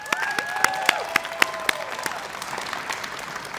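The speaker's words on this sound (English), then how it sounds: "Let's join in giving them a round of applause." An audience applauds the graduating adult education class of 2025 at Copper Mountain College, a steady wash of clapping with a few sharp close claps and a faint tonal hum underneath, fading slightly toward the end.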